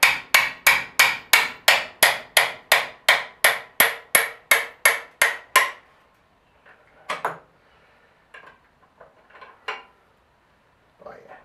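A hammer strikes a bolt on a Cub tractor about fifteen times in a fast, even rhythm of sharp metallic blows, followed by a few scattered clanks and handling noises.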